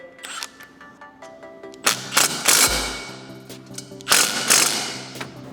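Ratchet tightening nuts on a bracket, quick clicking runs in two bursts with a metallic clunk between them, close and fairly loud, without talking.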